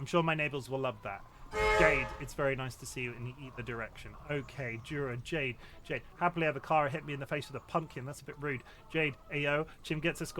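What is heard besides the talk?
No everyday noise stands out behind the speech.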